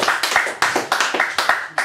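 A small audience claps at a Christmas comedy show, a short burst of close, sharp hand claps in a quick uneven rhythm, loud and alone.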